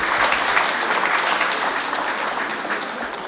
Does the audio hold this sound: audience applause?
yes